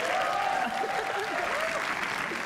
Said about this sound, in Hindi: एक बार तालियां करो कपूर के लिए।